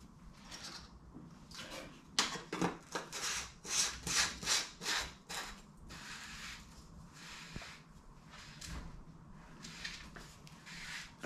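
A BMW oil filter housing cap being turned by hand, giving a faint rhythmic scraping and rubbing of plastic threads in repeated short strokes, with no talking.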